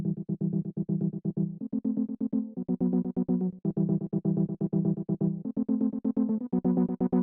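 Goa-style synth pad chopped by a rapid psytrance gate into fast pulsing stutters in a melodic techno track, the sustained chords shifting every couple of seconds.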